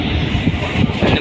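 Hyderabad metro train running between High-Tech City and Borabanda stations, a loud low rumble and rush of wheels and wind, steady and close, from aboard the moving carriage.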